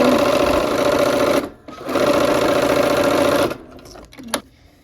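A sewing machine stitches a quilt block in two steady, close runs separated by a brief pause, then stops with a few small clicks and handling sounds.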